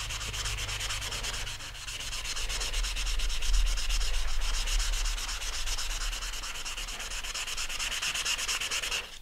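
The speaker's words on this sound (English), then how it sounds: "And for this I'm using 220 grit sandpaper." Steady hand sanding of a primer-filled rocket body tube with 220 grit sandpaper, a continuous close rasping rub with a low rumble underneath.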